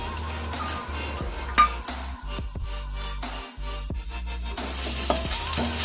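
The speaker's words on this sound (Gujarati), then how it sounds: "હવે બરાબર સાતળી લેશું આદુ અને મરચાંને." Ginger and chilli paste with cumin and asafoetida sizzle in oil in a kadhai, a continuous frying hiss punctuated by several sharp spoon scrapes and clinks against the pan, close and fairly loud, without speech.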